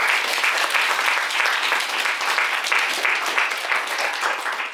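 Steady, dense applause from a conference audience fills the room, a continuous wash of many hands clapping with no voices over it.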